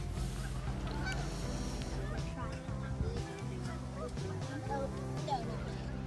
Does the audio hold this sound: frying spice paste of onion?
no